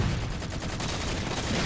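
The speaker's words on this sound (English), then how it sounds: "Just gonna throw some random grenades." Rapid gunfire and grenade blasts in Halo 4 multiplayer form a dense, continuous loud barrage of shots and explosions across the whole stretch, with no talking.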